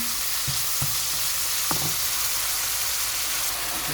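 Pork with holy basil and mushrooms is stir-fried in a hot pan, giving a continuous, close sizzle marked by a few quick scrapes of the spatula.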